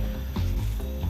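A pepper grinder turns over food with a close, gritty ratcheting crunch, a dense rasping grind lasting about a second with no talk.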